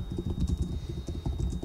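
Rapid typing on a computer keyboard, a dense run of soft clicking keystrokes, close and fairly quiet, with no voices.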